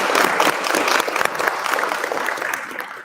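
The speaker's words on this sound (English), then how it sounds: "Can we get a round of applause for our panel?" A crowd gives a panel a round of applause at the close of a Pride Fest session on Two-Spirit lives, loud and full at first, then thinning gradually into scattered clapping.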